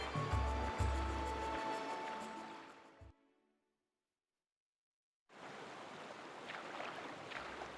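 Canoe plunging over a large waterfall at Lake Hylia in Twilight Princess HD: a loud, steady rush of churning water with low thumps, cutting to near silence for about two seconds, then a broad roar of falling water returning.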